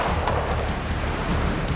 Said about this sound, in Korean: 동굴 밖에서는 벌써 밀물이 들어오고 있는 상황